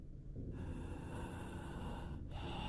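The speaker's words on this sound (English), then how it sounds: "The sound of someone breathing into their microphone was what I was greeted with." Someone breathes heavily right into a microphone, with loud, close, noisy breaths and a sharp intake just after the start and another near the end.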